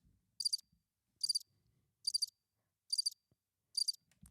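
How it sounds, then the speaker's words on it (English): A cricket chirp sound effect fires from a podcast soundboard button: five evenly spaced, crisp chirp bursts against near silence. "It's crickets, man."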